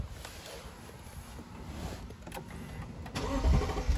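A 2021 Lexus LC500 with a naturally aspirated 5-liter V8 cranks briefly and fires up, the engine swelling louder at the end into a deep rumble, heard fairly close with no talking.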